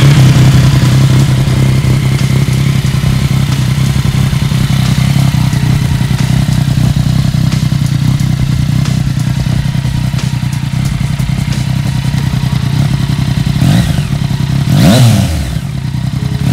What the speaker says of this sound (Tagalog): So that's the sound of the Yamaha XXR 900 na naka Arrow exhaust.